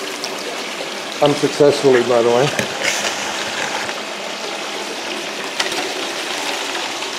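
Water washes and trickles through a Geosluice highbanker gold sluice loaded with rocks and gravel, a steady outdoor wash running under a voice.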